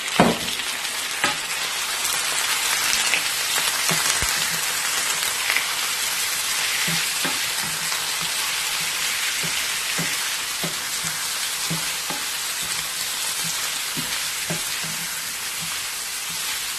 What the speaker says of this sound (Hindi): गोश्त के कलर चेंज होने तक आप इसको 1-2 मिनट के लिए भूनें।